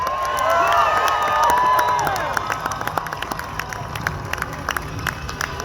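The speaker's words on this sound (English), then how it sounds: "Let's give them a round of applause." A crowd cheers and shouts, then breaks into scattered applause with sharp individual claps continuing after the cheering fades.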